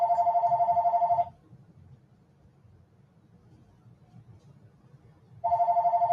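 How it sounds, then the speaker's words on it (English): A telephone rings in two loud bursts of rapid trilling bell, separated by about four seconds of quiet with only faint low background noise. "There goes the phone."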